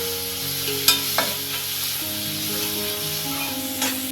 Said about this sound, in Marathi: कांदा चांगला मी परतून घेते